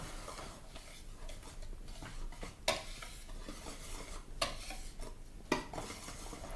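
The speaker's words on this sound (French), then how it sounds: "Nous allons mélanger le tout." Waffle batter ingredients being whisked together in a bowl, a quiet steady swishing with a few sharper taps of the whisk against the rim.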